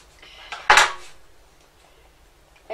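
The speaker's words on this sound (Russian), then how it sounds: "Режем на разделочной доске." A knife cuts a bun on a wooden cutting board for picnic hot dogs, giving one sharp, close clatter followed by a few lighter knocks and scrapes.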